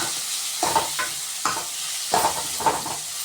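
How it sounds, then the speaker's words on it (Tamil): Onions and tomatoes sauté in a pan for Tamil fish curry, a soft continuous sizzle broken by several rhythmic spatula stirs, near and without speech. "நல்லா வதக்கிக்கோங்க. வெங்காயம் தக்காளி எல்லாமே நல்லா வதங்கணும்."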